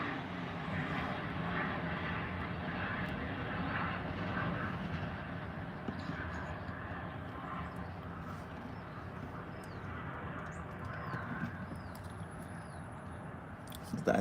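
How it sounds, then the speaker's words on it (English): An airplane passes overhead, a steady low engine roar that fills the background evenly for the whole stretch, moderately loud and distant. "That's an airplane, I guess."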